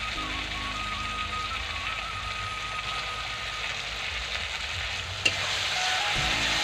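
Poppy seed and cashew paste frying in a pan for a rui fish dish, a steady close sizzle with soft stirring and a single sharp clink near the end.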